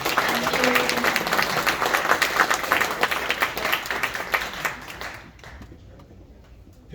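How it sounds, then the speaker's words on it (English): An audience gives a dense, loud round of applause that fades out over the last couple of seconds. "big round of applause for yourself."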